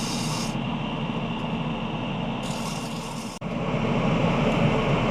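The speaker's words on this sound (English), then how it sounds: "Well, it's ready for sanding" Sandpaper rubs continuously against a wet, punky spalted alder bowl, making a steady close rasping hiss with a brief break partway through before the sanding resumes.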